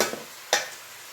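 A utensil stirs spinach in a cooking pan, giving two quick, soft scraping strokes over a faint sizzle, close by with no talk.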